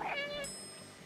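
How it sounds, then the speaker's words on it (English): A cat in the video game Stray, riding an elevator, gives a single short meow near the start, followed by a thin sustained high tone that fades over a quiet backdrop. "Meow, meow, meow, meow. I'm a cat"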